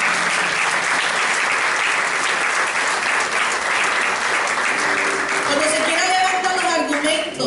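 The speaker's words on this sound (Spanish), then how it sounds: "Un aplauso, Señor, por esa palabra." A church congregation applauds with dense, sustained clapping throughout, and a voice begins speaking near the end.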